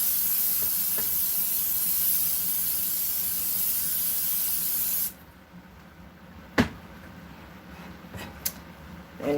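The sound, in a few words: cooking oil spray sprayed onto a pan before making stuffed manicotti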